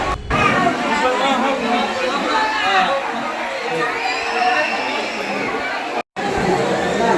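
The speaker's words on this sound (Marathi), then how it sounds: "रविवार असल्यामुळे काय भयानकच गर्दी आहे." A packed Sunday crowd at Jyotiba temple chatters in a continuous, overlapping babble, a few nearer voices rising above the hubbub, with a short silent break near the end.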